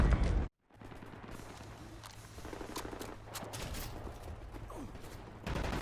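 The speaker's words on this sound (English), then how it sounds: "Right, lads, you ready to lay down suppressor fire?" Sustained gunfire in the World War II shooter Wolfenstein: The New Order, a dense crackle of rapid rifle and submachine gun shots lasting several seconds after a brief silence, with steady mechanical rumble underneath.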